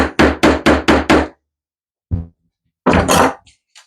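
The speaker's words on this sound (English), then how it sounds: "Hammer this down." Five quick, sharp hammer blows in a row driving staples into canvas on a frame, then a pause, a single knock, and a final pair of strikes, close and loud.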